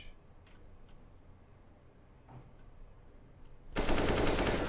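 Video game gunfire during an online shooter match: faint scattered ticks and distant shots give way to a sudden loud, sustained burst of rapid fire in the final second.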